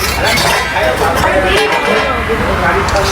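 A metal plate lid is lifted off a pot of basanti pulao cooked with water, giving light clinks and clatters under continuous steady noise, while a voice talks over it close by.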